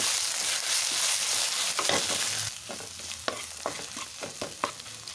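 Steady sizzling in hot tempering oil, followed by a spatula scraping and stirring a paste of nalleru (veldt grape) in irregular strokes, close and fairly loud.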